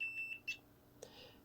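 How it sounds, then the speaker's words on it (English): A multimeter in continuity mode gives short beeps while probing a Sony XR-77A80J television power supply board under repair, a few brief tones in the first half-second, then a quick click and hiss. "We have a beep when we have continuity."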